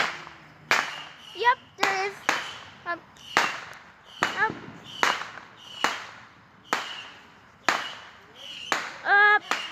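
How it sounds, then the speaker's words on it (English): Fireworks pop and crack at a distance, a dozen or so sharp bursts at irregular intervals, with people talking between the bangs. "There might be fireworks."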